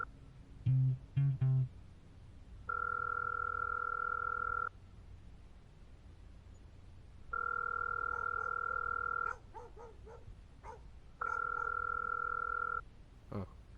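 A phone call is dialed and left ringing: a few short dialing beeps near the start, then three long ringback tones separated by quiet pauses, with a few faint clicks between them.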